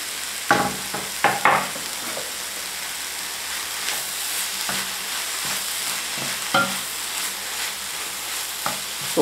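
Chopped kale and peeled, diced orange stew in a pan on a home stove with a soft, steady simmering hiss, broken by a few louder scraping knocks of stirring near the start and later on.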